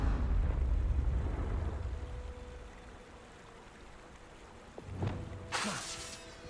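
Fiery explosion from the Confringo spell in the Hogwarts Legacy video game, a rumbling burst that fades, followed by a couple of sharp cracks and a crackling flare near the end.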